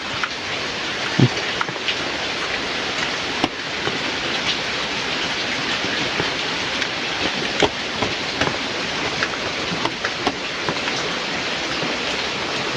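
Steady rain falls in a forest, a dense, even hiss with occasional louder drops pattering nearby, continuous throughout and with no voices.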